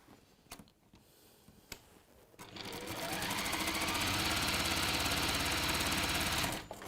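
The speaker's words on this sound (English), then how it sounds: "Fold it in half and stitch down the fold 1/4 inch." A sewing machine stitches down a folded fabric edge a quarter inch in, starting after a few quiet clicks and then running in one fast, steady, rattling stretch of about four seconds, close and clear.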